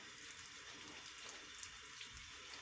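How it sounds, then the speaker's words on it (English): Water runs steadily from a bathroom tap for a coconut oil soap lather test, a faint, even hiss and splash with no talk. "I'm going to add a little water to this."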